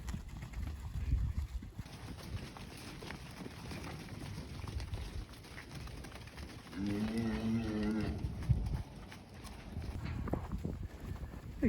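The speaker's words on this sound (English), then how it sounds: "We just cut out 2 of these older bulls and then this cow and calf." Cattle on a farm during hay season, including older bulls and a cow with her calf, heard as a clear nearby moo in the middle, with low shuffling, hoof and movement noise throughout and faint voices at times.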